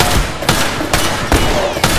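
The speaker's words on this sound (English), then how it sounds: "that's a lot of shots" Rapid gunfire from The Last of Us Remastered multiplayer match, with sharp shots landing roughly every half second over a continuous noisy battle background.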